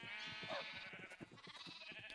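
Sheep bleat several times in a Minecraft FTB Revelation game world, the wavering cries close and clear over a soft background.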